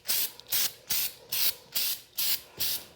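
Herculiner bed liner coating is sprayed from an aerosol can onto a Jeep JK tailgate in seven short, evenly spaced hissing bursts, close and fairly loud, with brief gaps between them.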